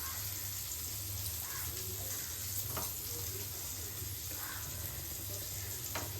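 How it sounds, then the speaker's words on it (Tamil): Cinnamon and spices frying in hot oil in a kadai, a steady low sizzle with occasional soft crackles and stirring, continuous and fairly quiet throughout. "மசாலா பொரிஞ்சிடுச்சு"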